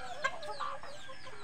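Chickens cluck in short, scattered calls, fairly faint and close together, with one sharper squawk standing out briefly and no talking.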